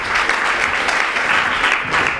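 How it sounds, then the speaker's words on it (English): A crowd at an improv comedy show applauds steadily for the troupe One Size Fits All, a dense, continuous wash of clapping at an even level throughout. "Round of applause, please, for One Size Fits All."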